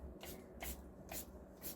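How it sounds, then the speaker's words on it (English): A spray bottle squirts alcohol onto the top of a skateboard deck four times in a steady rhythm, each short hissing burst close and quiet, with no talking. "you can take a little alcohol, spray it directly onto the top layer"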